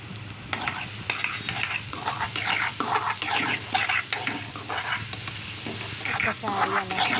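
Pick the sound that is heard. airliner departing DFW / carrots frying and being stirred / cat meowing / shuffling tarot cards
carrots frying and being stirred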